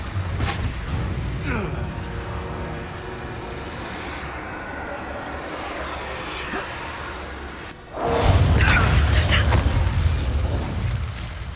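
The Confringo fire-blasting spell in the Hogwarts Legacy video game, a low rumbling game ambience with voices that erupts into a sudden loud, sustained blast partway through.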